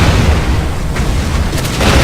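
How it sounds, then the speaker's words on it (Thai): A loud, continuous booming roar with dense low rumble throughout, a sustained bomb explosion from a launcher weapon in the game Blackfire, with a brief sharper burst near the end. "ปล่อยระเบิด"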